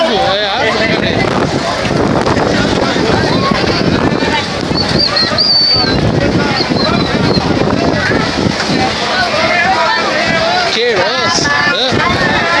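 Strong sandstorm wind gusts across a beach on Ilha Comprida, a continuous loud roar buffeting the microphone throughout, with people talking intermittently beneath it.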